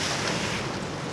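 Ocean waves break around a small boat in a dense, loud wash of surf and water mixed with heavy wind buffeting the microphone.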